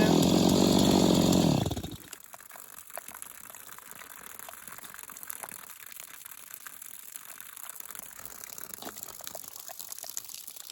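Stihl MS250 chainsaw cutting, a loud, steady engine roar for the first two seconds that then drops away to quieter broadband hiss and scattered clicks.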